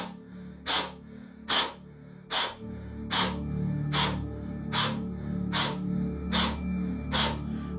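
Nine forceful breaths blown out through the mouth in a steady repeating rhythm about once a second, each a short breathy whoosh, close and alone over a low background hum.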